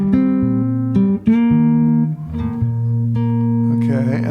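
Guitar plays a melody together with a low bass line, clear sustained plucked notes changing every second or so, close and fairly loud.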